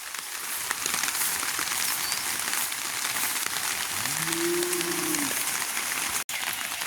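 Steady rain falls across a rural village in the Vanni, a dense continuous hiss with a brief low tonal sound partway through and no talking.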